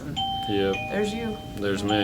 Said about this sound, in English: That's the doorbell thing. Well, the door open thing.